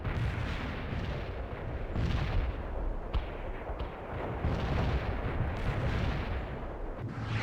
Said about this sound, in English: I need fire support, Romanov.